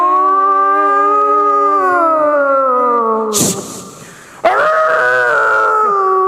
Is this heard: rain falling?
no